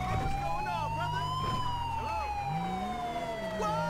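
A police siren in GTA 5 wails up and down steadily with a fairly faint, distant quality, and an engine rumble sits underneath it.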